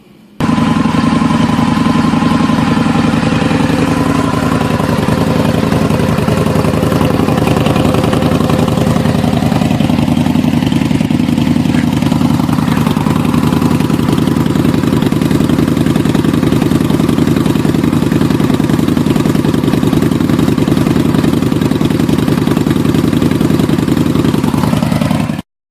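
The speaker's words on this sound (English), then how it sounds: "the sound of the motorcycle with the new silencer baffle" A motorcycle fitted with a Bassani Road Rage 2 exhaust and its quiet baffle idles close by, a steady low rumble with light mechanical clatter that holds evenly for the whole stretch.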